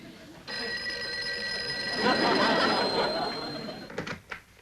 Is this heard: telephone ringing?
yes